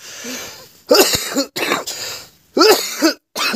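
A person coughs and clears their throat in several harsh bursts separated by short pauses, close and loud, with no talking.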